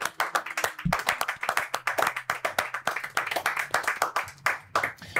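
An audience claps in a quick, scattered burst of applause that holds steady for several seconds, close and moderately loud, with a brief voice underneath.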